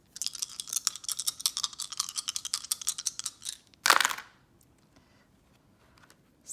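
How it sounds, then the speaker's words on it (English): Three dice rattle in quick, clicky bursts as they are shaken and tumbled, then land with a brief louder clatter before going quiet; close and alone, without talking. "roll 3 dice."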